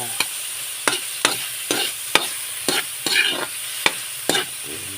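Ground pork is sautéed with squash and string beans, a spatula knocking against the pan in a steady rhythm of about ten strokes over a close, continuous sizzle.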